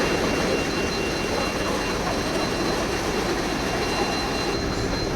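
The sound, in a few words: engine noise aboard Dhaka to Barisal launch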